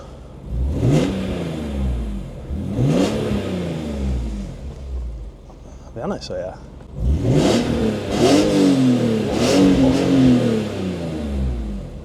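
A BMW E46 M3 engine revs hard through the gears in repeated rising sweeps, each shift cutting in before the next climb, heard from inside the car with someone talking between pulls.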